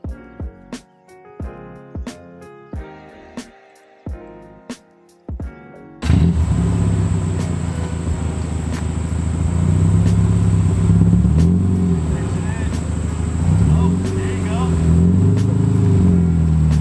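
A car's engine starts up and rumbles loudly, pulling away steadily while towing another car in neutral on a strap held with flex glue. Sharp knocks and clanks come first, then the sustained engine drone under occasional voices.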